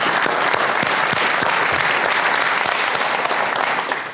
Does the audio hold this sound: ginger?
no